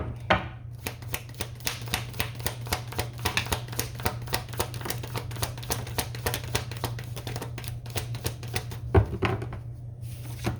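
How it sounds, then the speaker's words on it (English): Tarot cards are picked up and handled during a reading, giving a long run of quick, close tapping and flicking clicks at a steady rhythm over a low constant hum, with no talking. "I want to pick up these cards."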